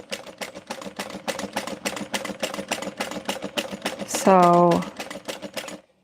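A sewing machine stitches at a steady, rapid clicking rhythm for several seconds before stopping, with a brief spoken word partway through.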